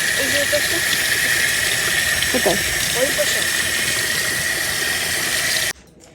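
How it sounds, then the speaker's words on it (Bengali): Water pouring steadily from a tap over leafy greens being washed outdoors, a loud continuous hiss, with a voice speaking under it before it cuts off abruptly near the end. "এখানে কাদাও আছে তো সুন্দর জল পড়ছে খুব সুন্দর ধোয়া হবে"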